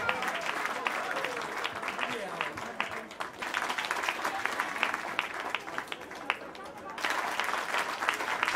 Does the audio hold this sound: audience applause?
yes